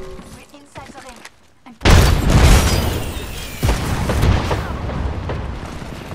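A frag grenade detonates with a loud boom in a battle royale video game, followed by rumbling blast noise and a second burst, with short voice chatter from players beforehand.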